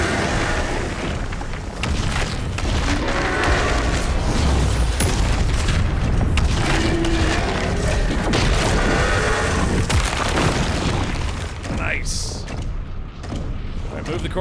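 Demons blowing apart in DOOM: The Dark Ages, a dense, continuous barrage of loud booms, bursts and gunfire-like pops with no pause, overlapped by occasional speech.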